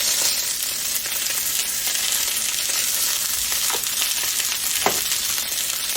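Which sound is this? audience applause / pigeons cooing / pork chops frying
pork chops frying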